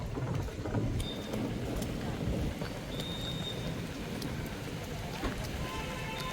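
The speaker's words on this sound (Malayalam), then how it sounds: "കുറച്ച് മഴയുണ്ട്, അപ്പം നമുക്ക് മരത്തിൻ്റെ അടിയിലും എല്ലാം പോയിക്കാം." Light rain falls at a beach by a cliff as a dense, even patter with scattered drop ticks, with faint wind noise in the background.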